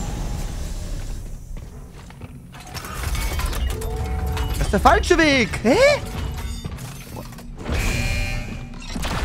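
An elevator mechanism in The Callisto Protocol grinds and ratchets with rising and falling metallic whines, clanks and gear noise that build in the middle, while someone speaks German over it.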